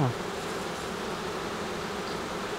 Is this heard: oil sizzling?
no